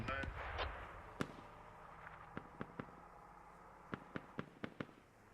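Mortar shells in the video game Squad explode nearby, a string of sharp booming impacts scattered irregularly through the clip, some close and loud, others more distant, with faint voices under the rumble.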